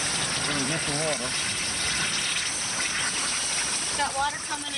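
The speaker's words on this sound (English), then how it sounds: "Got water coming in, water to the ankles." Water gushes loudly into a sinking car's cabin, a continuous rushing, splashing roar close up that fills the whole stretch, with voices calling out briefly over it.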